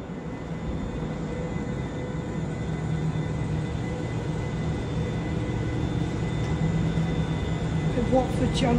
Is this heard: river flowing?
no